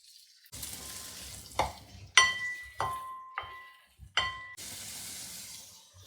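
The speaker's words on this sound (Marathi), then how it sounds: "मिरच्या आणि आल्याचे तुकडे हे चांगलं परतून घेऊया तर त्यात आपण आपला हा लाल भोपळा घालूया" Green chillies, ginger and red pumpkin are sautéed in a pan, with several distinct bursts of sizzling and metallic spoon clinks against the pan between quieter gaps.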